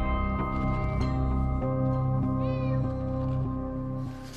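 A cat stuck in a tree meows repeatedly in long, drawn-out, tonal cries, fairly loud and insistent, with no talking over them.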